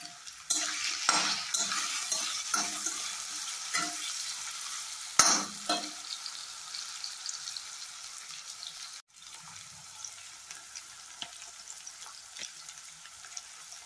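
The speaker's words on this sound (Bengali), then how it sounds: "এখন একটু আলু ডুমো ডুমো করে কেটে নিয়েছিলাম, সেটাকে একটু ভেজে নেবো নুন হলুদ দিয়ে" Diced potatoes with salt and turmeric fry in a pan, loud crackling sizzle and spoon stirring early on that settles into a quieter steady fry.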